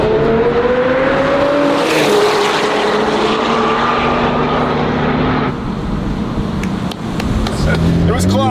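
A rally car at the LongTail Rally 2023 roars past close by, its loud engine note sweeping and shifting pitch as it passes, with sustained broadband noise and a fading tail.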